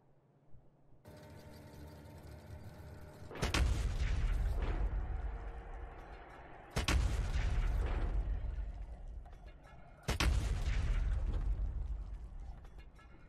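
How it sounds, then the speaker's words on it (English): New artillery firing sounds from the game Factorio: a mechanical whir and turning clatter build up before three loud, booming shots, each followed by a long rolling decay, spaced a few seconds apart. "real in-game footage of the new artillery sounds that are in-game"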